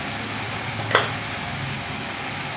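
Cumin powder and coriander powder go into a hot pan for an egg dhoka curry and set up a continuous, close crackling sizzle. A single soft clink of a spoon comes near the start, with no talking.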